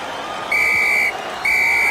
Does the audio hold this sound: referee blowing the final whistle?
yes